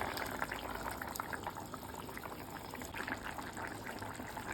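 Katla fish curry bubbles in a pot, a soft, continuous simmer with small popping bursts, faint and close with no voices.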